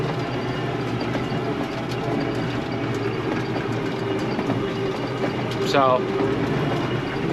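A tractor works a dry, dusty field with a rake, its steady engine drone and mechanical rattle continuous and loud, with a brief squeal near the end and a short spoken word at the start.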